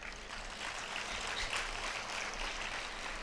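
Audience applause at the Erode book festival in 2024, a steady wash of many hands clapping throughout with crowd noise, fairly even in level with no pauses.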